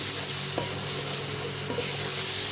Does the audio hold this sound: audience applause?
no